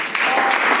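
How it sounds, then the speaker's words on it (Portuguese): Applause from a church congregation during a worship service, a steady dense wash of many hands clapping at once, fairly loud and continuous for under a second. "Vamos aplaudir ao Senhor."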